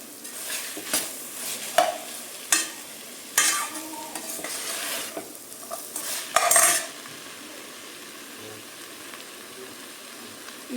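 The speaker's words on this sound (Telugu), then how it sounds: "క్యారెట్ ఇంకా పచ్చిమిర్చి కూడా వేసుకొని అన్నీ కలిపి ఫ్రై చేసుకోవాలి" Tomatoes, carrot and green chilli fry together in a pan for a paneer biryani, with a steady soft sizzle and repeated clinks and scrapes of a spoon stirring against the metal, louder in several short bursts.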